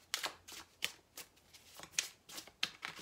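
Tarot cards being shuffled for a reading: a string of crisp riffling bursts in an uneven rhythm, close and fairly quiet, with no other sound.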